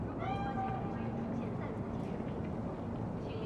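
A cat meows in Cyberpunk 2077, a single drawn-out call near the start, with game ambience and a low background hum continuing underneath.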